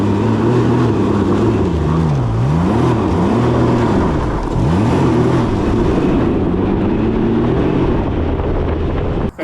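A Can-Am Ryker 900 three-wheeler with Neuro tuning accelerates hard from 0 to 100 km/h. The engine drone climbs and dips repeatedly through the gear changes, loud and steady, with wind rush over the microphone and no talking.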